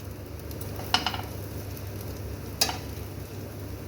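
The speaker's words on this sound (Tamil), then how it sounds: "இப்போ நம்ம வாழைக்காய் நல்லா ஃப்ரை ஆகிடுச்சு" Raw banana slices frying in a pan for vazhakkai varuval, a low continuous sizzle broken by two brief utensil clinks against the pan, quiet and near.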